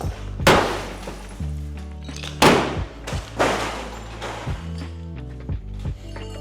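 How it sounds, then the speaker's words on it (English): A glass mason jar shatters under crowbar blows in a rage room, with several loud, sharp crashes and bright scattering shards spread across a few seconds, each impact followed by tinkling debris. "You can't jelly a mason jar with a crowbar to make it shatter"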